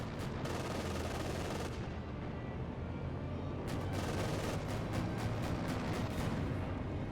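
Sustained automatic gunfire from a half-track's guns in the World War II strategy game Company of Heroes 2, a dense, loud, continuous rattle with sharper bursts toward the end and no talk.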